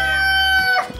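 A rooster or hen calls in a loud, sustained harmonic cry that dominates the second, fading into a brief, softer cluck at the end; birds molting on a farm.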